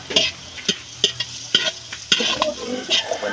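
Garlic frying in a pan after onions over a wood fire, stirred quickly: loud, close spatula scrapes land about every half second over a constant sizzle.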